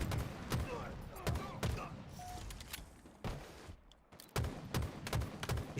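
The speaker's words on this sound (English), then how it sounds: "Shooting on a forge map." Bursts of gunfire on a Halo forge map, with repeated sharp shots and rapid volleys in separate clusters separated by brief pauses, loud and close.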